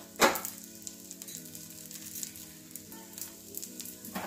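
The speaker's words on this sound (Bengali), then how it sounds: "ওইদিকে লাল লাল করে ভেজে নেব।" A cabbage paratha fries in a pan with a steady close sizzle, broken by a few sharp scraping or tapping accents near the start and end; no one speaks.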